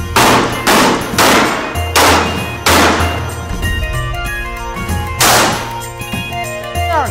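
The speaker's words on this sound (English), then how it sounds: "Two rounds, center of mass." Pistol shots fired during tactical pistol training, five or six loud sharp cracks in quick pairs and singles, each ringing briefly with a metallic tail over a low steady hum.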